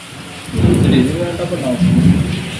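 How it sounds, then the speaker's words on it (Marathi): Heavy monsoon rain pours outside with a low rumble of thunder rolling through, a steady loud wash of rainfall with a swelling boom partway through; no talking. "बाहेर एवढा अंधार झालेला आहे, खूप जोराजोरात पाऊस येत आहे."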